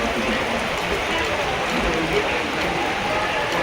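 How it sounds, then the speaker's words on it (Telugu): Heavy night rain pours down on Benaulim beach in South Goa, a dense continuous hiss from close by with no breaks across the whole stretch. "చూడండి ఎంత హెవీ రైన్ అసలు."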